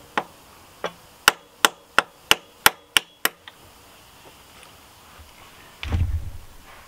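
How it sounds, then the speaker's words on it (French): A hammer strikes a 16 mm socket to drive a core plug into a Peugeot 308 engine block, ringing out about ten sharp metallic blows in a steady, quickening rhythm, close and loud, followed by a dull thud. "je vais frapper directement maintenant sur le champ de la pastille de dessablage"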